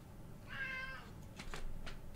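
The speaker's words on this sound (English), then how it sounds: "Cat." A cat gives a single short meow at moderate distance over a faint background hum, followed by a few soft clicks and rustles.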